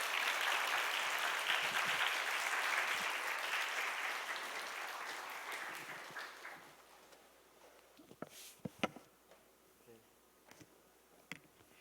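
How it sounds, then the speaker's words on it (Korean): Congregation at a church young adults' worship service clapping loudly to welcome a missionary, a dense sustained wash of applause that fades out after about seven seconds, followed by quiet room noise with scattered clicks and brief voices. "우리 선교사님 모실 때 여러분들 큰 박수로 환영해 주시길 부탁드립니다."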